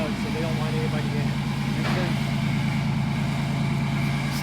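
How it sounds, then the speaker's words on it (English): A StuG assault gun's engine runs steadily at a low, even idle throughout, with a brief clatter partway through and people talking nearby over the drone. "The engine sounds smooth in it."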